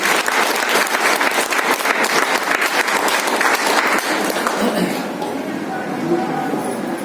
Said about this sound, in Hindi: तालियां होनी चाहिए अमिताभ बच्चन के लिए।